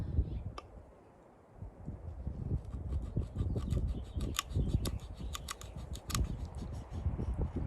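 A knife carves stop cuts into a hard gourd shell, producing a close, steady series of crisp clicking and scraping cuts in quick succession.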